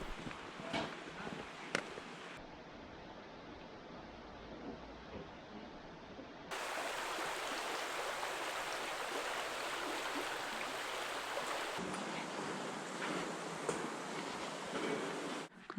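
A river flows steadily along a hiking path in Saxon Switzerland, giving a broad constant wash of water. It grows louder partway through, with a few faint knocks in places.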